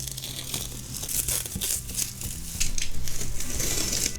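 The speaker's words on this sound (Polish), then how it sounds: "bierzemy sobie nożyk, zdejmiemy sobie folię, mam nadzieję, że ta folia szybko zejdzie" Protective plastic film pulled off a Kospel Primus shower water heater with a small knife, giving a continuous crinkling, tearing rustle close up, with bursts of louder crackle toward the end.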